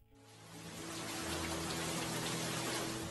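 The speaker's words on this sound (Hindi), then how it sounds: "बारिश की झिरमिर लय" Steady drizzling rain falls on a surface, a dense, even patter that swells in after a brief start and holds at moderate volume, with no voices.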